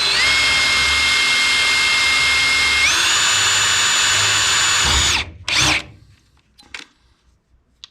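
A loud, high-pitched power drill whines steadily for about five seconds while drilling a hole in an RV-14 aircraft cowl flap part, its pitch rising once, then stops with a few short bursts and clunks.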